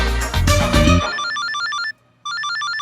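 Telephone ringing in a TV comedy scene, a loud crash of music giving way to a bright repeating electronic ringtone pattern that pauses briefly and resumes, close and clear.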